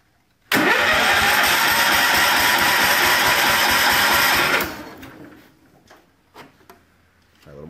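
A small engine with the choke on cranks and catches, roaring loud and close for about four seconds before cutting out, followed by quieter clicks and rustling.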